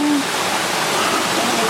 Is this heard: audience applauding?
no